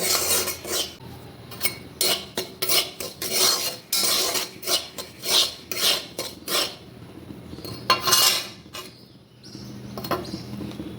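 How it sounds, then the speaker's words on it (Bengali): Rice flour dry-roasting in a pan for pitha, a utensil scraping and stirring it in repeated brisk strokes, close and fairly loud, with occasional metallic clinks and no talking. "এই যে ভালো করে কিন্তু চালের গুঁড়াটা ভাজতে হবে।"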